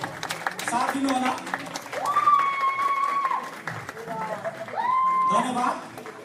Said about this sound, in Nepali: कृपया सबैले तालीले साथ दिनु होला